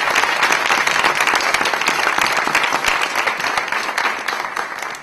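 Loud, dense applause from an audience in a room fills the whole stretch. It honours the search committee and board staff at the announcement of Iowa State University's next president, and it holds steady before easing off slightly toward the end.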